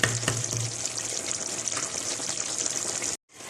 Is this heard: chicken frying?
yes